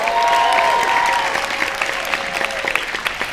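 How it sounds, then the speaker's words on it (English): Steady applause from a theatre audience after an orchestra's performance, dense clapping that holds strong and then gradually thins toward the end, with some tonal music fading under it. "Please give them a warm round of applause."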